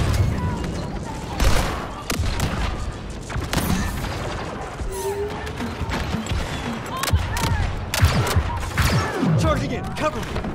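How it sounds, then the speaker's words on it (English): A grenade goes off amid a chaotic Star Wars Battlefront 2 firefight, one loud boom among continuous blaster fire, mechanical clatter and crashes, with in-game voices shouting through the din. "Heads up, grenade!"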